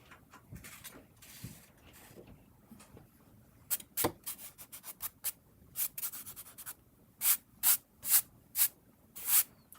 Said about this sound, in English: Removing the eraser bits